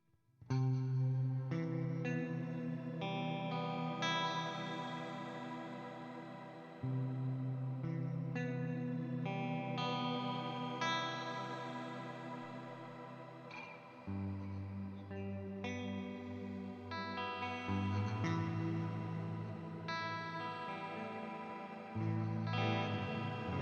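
Electric guitar chords ring out through a deep, wobbling modulation effect on a Quad Cortex with the depth turned up, swirling and shimmering as each chord sustains and changes.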